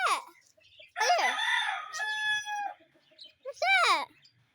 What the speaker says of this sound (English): Where's the chicken? Where's the brown chicken?